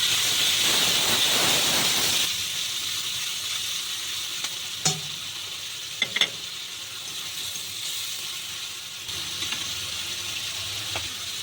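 Onion paste drops into hot oil with a loud hissing sizzle that quickly settles into a quieter steady fry, broken by a few sharp clicks from the pan or spoon.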